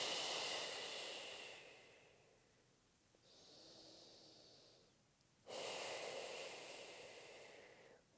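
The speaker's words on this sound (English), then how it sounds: "So big inhale." A person takes deep, audible breaths through the nose during a gentle postpartum core and pelvic floor exercise, with a long inhale, a softer breath in the middle, then another strong airy breath close to the microphone.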